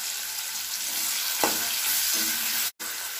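Onions fry with curry leaves in a pan over a medium flame for masaledar baingan, giving a close, continuous sizzle with a couple of soft stirring scrapes and a brief cut near the end.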